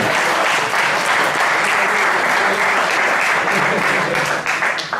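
Loud, sustained applause from a crowd, steady clapping for several seconds that begins to thin out near the end.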